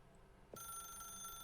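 Telephone in The Stanley Parable begins ringing abruptly partway through, a steady electronic trill holding on after a quiet lead-in, faint overall.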